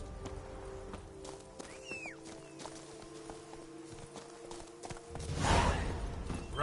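Roach the horse gallops in The Witcher 3 with rhythmic clip-clop hoofbeats over a low ambient bed and a brief bird call, then a louder whoosh near the end.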